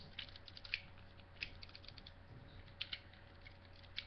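Ratcheting joints on a Transformers Bruticus toy figure being moved, faint, close clicks in sparse irregular bursts over a quiet, steady hum.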